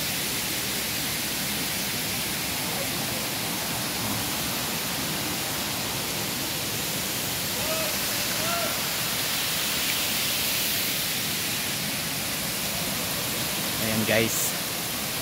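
A natural waterfall at Panas falls in New Corella, Davao del Norte, produces a constant, loud rushing roar. Someone speaks briefly over it and voices are faintly heard near the end.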